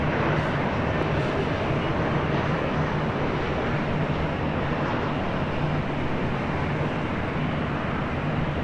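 A steady, broad roar of a jet airliner landing on runway 24 left at Los Angeles International Airport holds constant and fairly loud throughout, with no talking.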